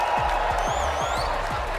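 A big arena crowd in Copenhagen at a Fortnite championship grand final roars continuously for the birthday player Kanada, a broad sustained cheer with whistles, steady and loud under repeated low thumps.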